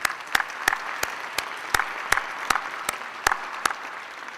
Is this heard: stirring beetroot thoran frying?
no